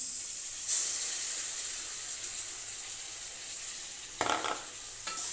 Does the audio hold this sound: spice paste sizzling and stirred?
yes